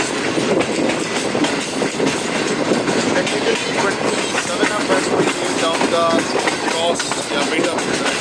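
Passenger train of the 28 Down express rolling along the rails, a steady dense rumble with faint clickety-clack from the wheels, close and continuous, with indistinct voices of passengers inside the carriage.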